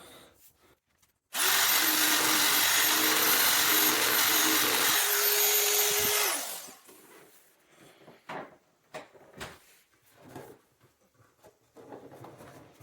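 A power tool machines the edge of a salvaged Aston Martin DB7 V12 bonnet in a loud, continuous whirring burst of about five seconds. It cuts off abruptly, leaving faint knocks and handling noises.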